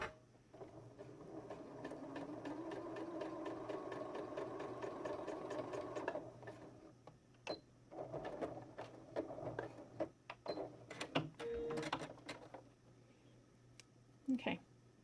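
Sewing machine running steadily for about six seconds as it stitches a stretchy fabric headband right along the edge, then stopping and restarting in short bursts with clicks and handling noises.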